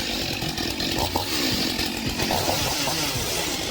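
A STIHL chainsaw roars continuously as it cuts through a log, a loud, steady buzzing with no talk over it.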